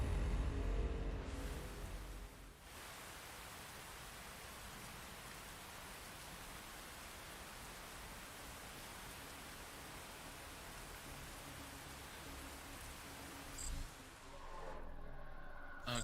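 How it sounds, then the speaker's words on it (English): Steady rain falls in the video game Phantom Brigade, a soft, even hiss that holds unbroken for most of the stretch, with a brief louder burst near the end. "It's raining."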